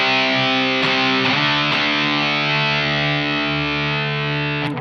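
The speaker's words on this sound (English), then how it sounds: "I'm going to turn on that Silktone Overdrive Plus, and I'm going to put it in strangle mode" A continuous, heavily distorted electric guitar chord through a Silktone Overdrive Plus pedal in strangle mode rings out with a thick, gritty overdrive tone, a few picked accents cutting through, with no talking.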